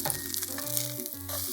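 Okonomiyaki sizzling on a pan right after being flipped, a brief, close, steady frying hiss with soft shifting sounds from the turn.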